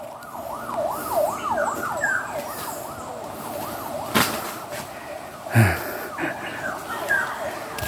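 Fire truck siren wailing in a rising and falling sweep as trucks respond to a fire in a neighboring village in the rural province, steady and moderately distant, with someone talking over it and a few sharp knocks nearby.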